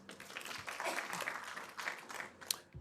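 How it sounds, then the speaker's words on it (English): A panel audience at a startup-funding event applauds, producing a fairly soft, continuous patter of many hands clapping that swells and dips, with one sharper clap near the end. "Applause, please."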